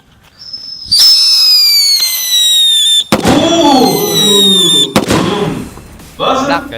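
A small, cheap 5,000-rupiah firework whistles upward, then bursts with sharp crackling pops and fizzing, followed by another loud bang and sputtering close by.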